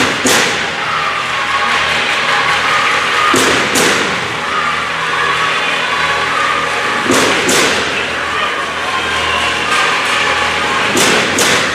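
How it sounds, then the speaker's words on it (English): At a basketball championship game, a crowd stomps on the bleachers with loud, heavy thuds repeating in rough bursts over a continuous roar of arena noise. "that's the stomping on the bleachers"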